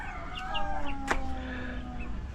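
Pet chickens, newly bought and grown, cluck and warble close by in short, rising calls. A sharp click cuts in near the middle over a low background rumble.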